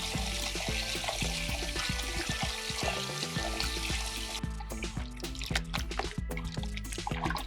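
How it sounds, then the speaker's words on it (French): Water pouring and splashing over cut potatoes being rinsed of starch for homemade chips, with continuous running water, knocks and clatter of the potatoes throughout, close and loud. "Et on rince. Pour enlever tout l'amidon que vous avez dans vos pommes de terre."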